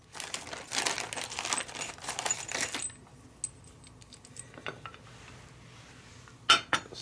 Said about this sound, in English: Let's open up this bag.